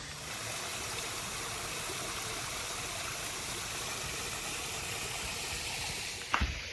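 An Ozark creek waterfall pours in a constant broadband rush from start to finish, with a single brief thump near the end.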